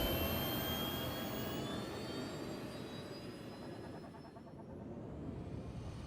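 Spaceship engines in the video game Star Citizen roar through a takeoff, a dense jet-like rush with thin whining tones sliding downward, softening slightly midway and then swelling again, with no voices.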